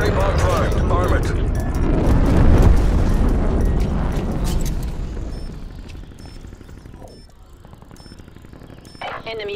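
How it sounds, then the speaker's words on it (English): Napalm strike explosions in the video game Dirty Bomb, a loud rumbling barrage of booms in the first half that fades into a quieter crackling tail, with faint beeping tones and voices over it. "Enemy napalm strike incoming."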